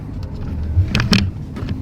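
Road traffic in a jam in Indonesia, with a low steady rumble of idling engines and a couple of brief, louder passing noises in the middle. There is no speech.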